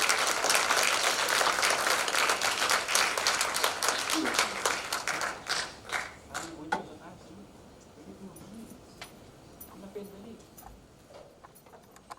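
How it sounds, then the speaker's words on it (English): A seated audience at a forum on Philippine sovereign rights in the West Philippine Sea applauds the Acting Chief Justice of the Supreme Court, dense clapping that thins into scattered claps and fades as talk begins. "a round of applause please for Acting Chief Justice of the Supreme Court of the Philippines"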